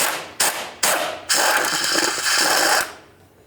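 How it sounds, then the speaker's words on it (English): A power tool, likely an impact wrench, removes a 12mm nut on a 1999-2003 Toyota Solara engine during power steering pump replacement. It fires two short loud bursts, then a sustained buzzing run of about a second and a half, close up. "Now the next thing we're going to do is remove this 12mm headed nut right here."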